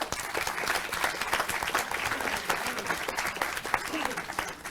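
Applause from an audience at a Mexican Senate forum on child and adolescent sexual violence, a dense steady wash of clapping with voices mixed in underneath throughout.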